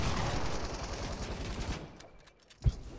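Sustained burst of light machine gun fire in a Fortnite match, dense rapid shots for nearly two seconds, then quiet with one sharp loud report near the end.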